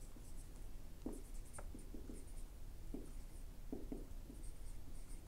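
Pencil writing numbers on paper, producing faint, close scratchy strokes in short bursts with small pauses between them.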